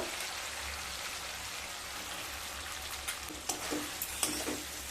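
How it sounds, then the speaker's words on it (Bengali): Pointed gourd (potol) frying with spices in a pan, a steady soft sizzle throughout with a few louder stirring scrapes near the end; no voices. "পটল দিয়ে মশলার সাথে খুব ভালোভাবে কষিয়ে নেব"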